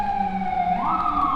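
Emergency siren from a fire engine or ambulance passing along a rainy Midtown Manhattan street at night, a steady wail that rises in pitch partway through, loud and close over traffic rumble.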